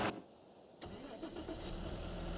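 A Fendt tractor engine in a farming video game cranks briefly and catches, then settles into a steady, loud mid-pitched idle rumble that continues to the end.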